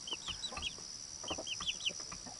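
A chicken gives soft, quick clucks in two short clusters, close by and moderately quiet, with a faint background hum and no talk.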